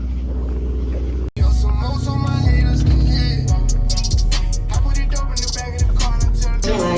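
A Lamborghini Urus SUV's exhaust is blipped hard, a loud close rev that swells and falls with crackling pops, after a brief gap near the start, and deep rumbling continues underneath.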